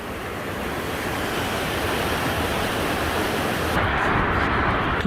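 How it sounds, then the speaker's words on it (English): A river in Yoho National Park rushes in a steady, loud roar that fills the whole clip and never lets up. "it's a pretty one, and it's raging along."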